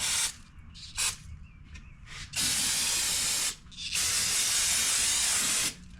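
Several bursts of aerosol carb cleaner spraying on a Honda HRR216 push mower, short hissy spurts followed by two long sustained sprays, loud and close.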